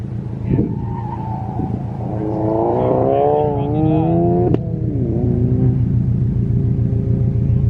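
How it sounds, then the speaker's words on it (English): A car, likely a Golf R, accelerates hard at an autocross: engine revs climb in rising gear steps with a brief tire chirp, heard at a distance under spectators chatting. "That acceleration on that car is freaking massive."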